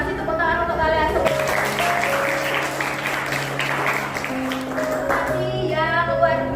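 Applause from a classroom of students after group presentations, a dense steady clatter of many hands running throughout over sustained musical tones.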